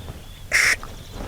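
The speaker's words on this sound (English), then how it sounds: "I'm going to try to make it sound like a duck call." A single short blast on a duck call, a nasal quack with a distinct start and abrupt stop, loud and close against a quiet background.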